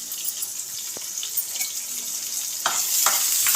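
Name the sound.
onions frying in pan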